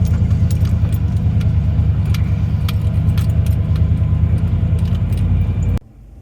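A Chevy Cheyenne truck in 4-low grinds through a big mud section, its engine a loud, steady low rumble with scattered clunks and rattles, cutting off abruptly near the end.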